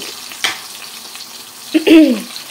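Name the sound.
cumin and turmeric sizzling in hot oil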